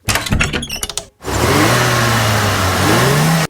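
A toy bus in a minifigure city scene pulls away with a steady engine drone that rises slightly as it accelerates, loud and close, preceded by a brief burst of clattering handling noise.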